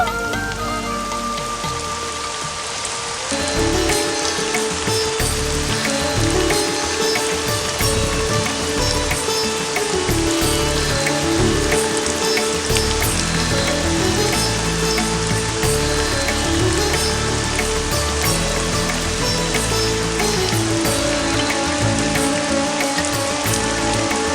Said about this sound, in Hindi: अरे बारिश, बारिश आई, बारिश आई, बारिश।